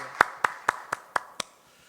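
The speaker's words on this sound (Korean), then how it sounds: "우리 함께 하나님께 영광의 박수 올려드리겠습니다" Six evenly spaced sharp claps in a church service, a slow steady rhythm that stops after about a second and a half, leaving quiet room tone.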